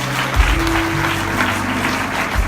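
A church congregation applauds at a baptism service, a steady, dense wash of clapping filling the room for a few seconds with a low sustained tone underneath and no talking.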